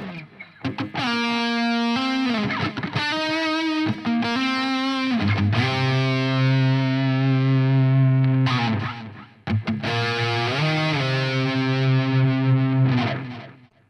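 Distorted electric lead guitar playing a melodic solo, doubled by a second guitar line harmonizing in thirds and fourths, sustained notes and quick runs, loud and continuous.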